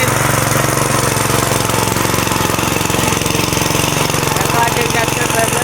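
A tractor engine runs steadily and close by on a village farm, a loud, continuous rattling chug with a fast, even knocking pulse that holds unchanged throughout.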